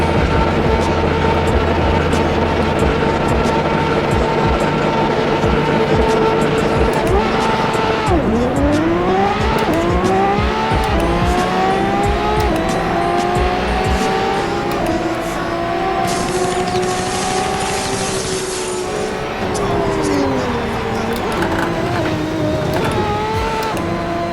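Ferrari race cars in the Assetto Corsa video game drone at high revs, with engine pitch sweeping up through the gears after a drop, and a faint high whine partway through, loud and continuous.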